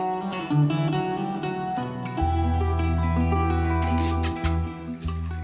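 Full live-recorded guitar-driven music from a video game soundtrack, with strummed and picked notes over a deep sustained bass, dense and loud throughout.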